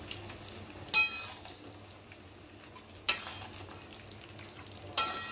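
Masala and chicken stirred and fried in a pan for a home-style Bengali chicken korma, with a low steady sizzle broken by three sharp scraping clinks of the spoon against the pan.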